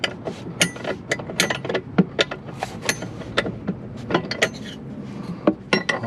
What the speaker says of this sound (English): use the open end of the wrench to be able to get it off